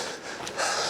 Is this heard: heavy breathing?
yes